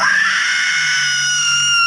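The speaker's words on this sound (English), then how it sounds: "a big slime that has no organs such as lungs or mouth, but somehow manages to scream" A slime boss in World of Warcraft: Shadowlands lets out a loud, sustained shrill scream, a single drawn-out wail lasting nearly two seconds with no talk over it.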